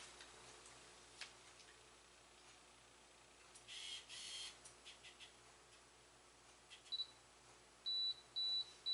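A camera's self-timer counts down in an abstract artist's studio, giving short, high, evenly spaced beeps toward the end of a quiet room with faint clicks and no talking.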